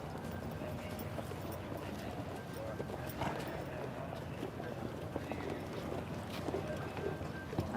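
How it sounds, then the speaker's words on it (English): A racehorse jig-jogging in the paddock at a Riyadh race meeting: a steady, quick clip-clop of hooves under a continuous murmur of background noise, moderately near, with people talking. "She's up on her toes a bit. Yeah, she's jig-jogging around."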